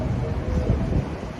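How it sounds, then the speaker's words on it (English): Wind blows outdoors, gusting against the microphone as a low, steady rumble across the short stretch. "Kind of windy out here."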